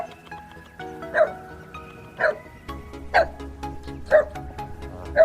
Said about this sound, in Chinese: 这里有几条纯种的中华田园犬啊